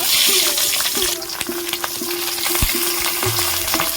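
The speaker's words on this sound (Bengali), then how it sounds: "আমি কড়াতে ভাজছি আপনারা কড়াতে ভাজতে পারেন" Loud, steady sizzling of jackfruit patties wrapped in banana leaf frying in oil in a wok, with brief scraping stirs and a faint tone underneath.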